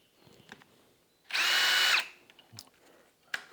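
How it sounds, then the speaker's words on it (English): Cordless drill on slow speed driving a VEVOR tubing notcher through metal tubing, one steady loud whir for about half a second after a quiet start, then stopping, with light handling clicks around it. "I got my drill"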